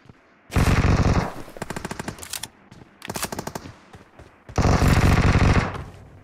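Automatic gunfire from the battle royale game BGMI rattles out in three loud, dense bursts with short quieter gaps between them, close and dominating the mix.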